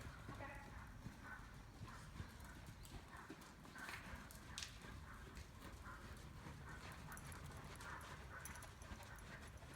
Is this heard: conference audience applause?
no